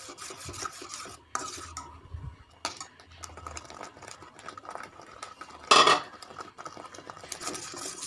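Tomato sauce with chilli powder and sugar sizzles and scrapes in a pan as a spoon stirs it repeatedly, with occasional sharp metallic clinks against the pan.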